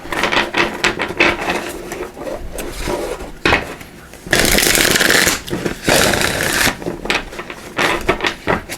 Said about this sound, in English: So let's give it one more shuffle here.